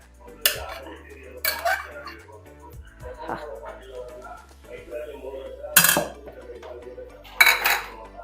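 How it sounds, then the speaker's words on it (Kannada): A metal spoon mixes cooked rice into capsicum bath gojju in a steel vessel, making intermittent clinks and scraping knocks, a few loud, with soft stirring in between. "ಈಗ ಅನ್ನ ಹಾಕಿ ಕಲಸೋಣ ಇಷ್ಟು ಗೊಜ್ಜುಗೆ ಎಷ್ಟು ಅನ್ನ ಬೇಕು ನೋಡ್ಕೊಂಡು ಕಲಿಸ್ಕೊಂಬಿಡೋಣ"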